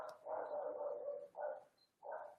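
A dog, worked up after a walk and a long frisbee session, gives a run of close, loud barks, a long burst followed by two shorter ones with brief pauses between.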